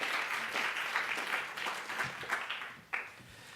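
Audience applause fills a symposium hall as two presenters are welcomed, a steady dense wash of many hands clapping, fairly close and sustained, with a few sharper claps standing out near the end.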